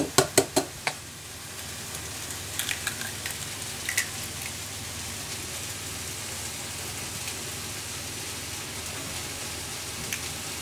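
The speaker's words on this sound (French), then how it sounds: "Je casse un œuf." Organic eggs cracked against a bowl while making a leek, goat cheese and honey quiche: a quick cluster of four sharp taps at the start, then a few softer knocks and faint clicks over a quiet kitchen background.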